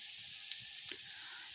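Potatoes frying in oil in a pan for a ridge gourd and potato poppy-seed dish give a faint, steady sizzle with no talking.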